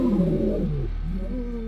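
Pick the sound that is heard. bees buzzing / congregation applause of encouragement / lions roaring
lions roaring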